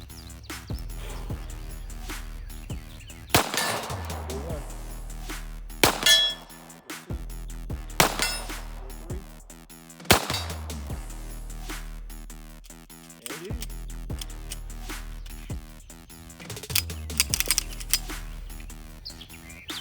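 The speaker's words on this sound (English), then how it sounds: "All right, 4 shots with the Kimber." Four shots from a Kimber 1911 pistol in .45 ACP, fired outdoors at a distance target: loud, sharp reports spaced a few seconds apart, each followed by a ringing metallic clang of rounds striking steel, with no talk.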